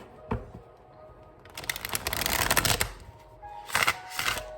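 Tarot cards being shuffled close up: a brief riffle, a longer run of rapid flapping card noise, then two more short bursts, with no talking.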